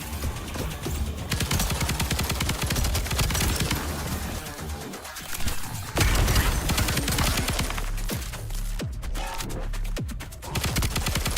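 Rapid explosive gunfire from a weapon turned into a grenade launcher in a singleplayer video game, a dense, loud barrage of repeated blasts and pops running almost continuously, with a couple of brief lulls.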